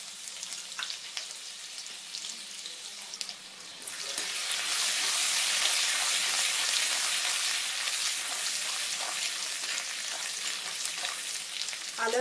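Ginger-garlic paste hits hot oil in a wok: quiet kitchen clatter gives way to a sudden loud, continuous sizzle that stays strong and steady to the end.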